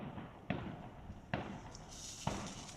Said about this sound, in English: There's also real fireworks going on there.